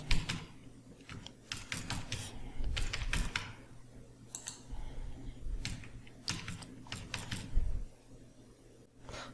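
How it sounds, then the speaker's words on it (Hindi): An Aadhaar card number keyed in on a computer keyboard while filling out an online registration form: irregular bursts of sharp, close key clicks, some rapid runs and short pauses, with no talking. "तो चलिए हम यहाँ आधार कार्ड का नंबर डाल लेते हैं।"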